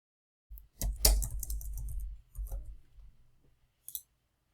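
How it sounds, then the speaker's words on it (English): A few quick bursts of keystrokes on a computer keyboard, close and crisp, with short pauses between them and a final brief tap. "Type in the name of the subject."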